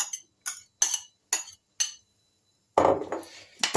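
A utensil stirs sautéed onion and carrot into buckwheat in a pan. It gives five evenly spaced sharp clinks against the pan, then a louder, rougher burst of scraping and sizzling near the end. No voices.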